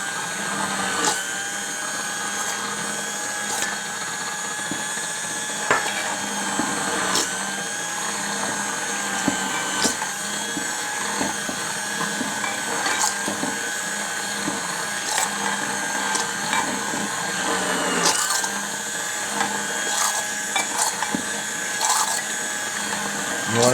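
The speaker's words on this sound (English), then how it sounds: "Lift up your immersion blender." A steady, whirring immersion blender motor runs continuously with faint sloshing and occasional clicks, mixing raspberry balsamic vinaigrette close by.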